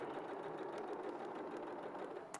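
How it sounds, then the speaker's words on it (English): Sewing machine running a quick back stitch on a bag, a short burst of fast, even mechanical whirring heard faintly and alone. "I'm just going to do a quick back stitch."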